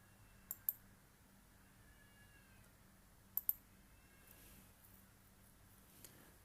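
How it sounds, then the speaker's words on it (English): Computer mouse clicks during a software install: two quick double-clicks, a pause, then another pair, with one faint final click, all crisp and close in a quiet room. "Okay, then click finish."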